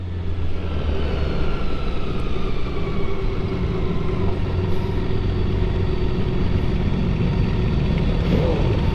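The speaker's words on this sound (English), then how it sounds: "I see why some people love these BMW 6-cylinders." A BMW inline six-cylinder motorcycle engine runs at a steady, smooth idle, close and fairly loud, with an even low rumble and no voices.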